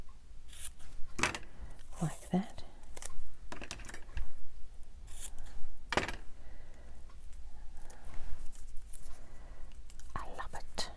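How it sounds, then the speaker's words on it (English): Several crisp snips of scissors cutting paper, scattered at irregular intervals, with whispered speech and soft rustling in between. "let's use the scissors."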